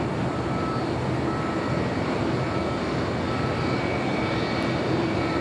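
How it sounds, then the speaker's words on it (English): An American Airlines Boeing 787-8 Dreamliner passes at LAX with a loud, continuous jet engine roar, steady and unbroken throughout, no voices heard. "American Airlines Flight 2398. It's a 787-8 Dreamliner heading to Dallas-Fort Worth"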